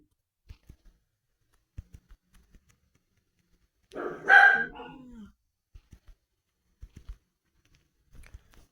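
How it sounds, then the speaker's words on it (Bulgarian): A dog gives a single short burst of barking, loud and close, amid sparse clicks and taps from a computer keyboard during Roblox gameplay. "Защо точно сега лаеш?"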